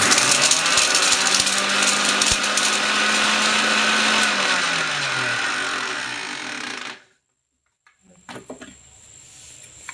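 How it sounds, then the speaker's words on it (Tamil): A mixer grinder's bullet jar grinds a few black peppercorns with a loud, steady whirring roar that holds for about seven seconds and then cuts off abruptly, followed by silence and a few faint handling knocks. "சும்மா ஒரு நாலு மிளகு போட்டு நான் உங்களுக்கு அரைச்சி காமிக்கிறேன்"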